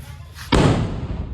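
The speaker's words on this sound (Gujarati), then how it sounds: "ભાઈ પેટ્રોલ વાળો બોમ્બ છે ફોડ" A petrol-filled firecracker bomb bursts with a sudden heavy thud during village Diwali celebrations, cutting through background noise and leaving a lingering rumble.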